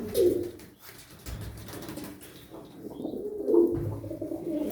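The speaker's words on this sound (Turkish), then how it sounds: "On sekiz tane kuş." Pigeons coo in soft, low phrases, two distinct bouts a few seconds apart, fairly close and quiet against a faint background, with no talking.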